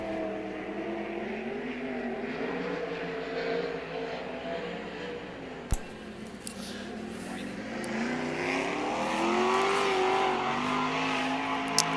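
410 sprint cars race around the dirt oval at Knoxville Raceway, engines droning and rising in pitch as cars circle at a distance, with a sharp bang midway and louder revving toward the end.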